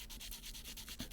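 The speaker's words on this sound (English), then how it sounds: "Wrap your small strips of sandpaper around it" Small strips of sandpaper rub back and forth on a hand-made bamboo kintsugi tool, making quick, rhythmic scratchy strokes, soft and close, with no voices.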